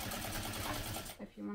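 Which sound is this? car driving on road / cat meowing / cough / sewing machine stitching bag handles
sewing machine stitching bag handles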